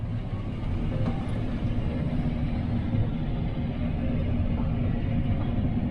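A farm machine engine runs during harvest of oats and wheat, producing a steady, loud, low rumble that holds nearly constant, with no clear rise in pitch.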